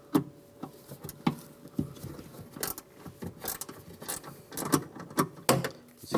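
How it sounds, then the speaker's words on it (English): A 10mm ratchet wrench turns out a bolt on the driver door of a 2011-2019 Ford Explorer, giving a run of quick, close metallic clicks and taps with no talk. "I'm going to use the same 10mm ratchet wrench and take this bolt out"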